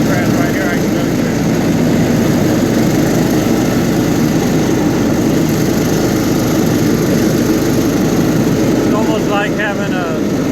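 A Cub Cadet LT1042 lawn tractor fitted with a John Deere 42-inch deck cuts through tall grass, its engine a loud, constant close-up drone with a steady deep hum for the whole stretch.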